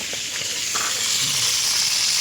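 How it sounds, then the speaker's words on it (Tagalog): Fish frying in a pan, a constant bright sizzling hiss that holds steady close up, with faint small knocks under it. "Prito siya isda."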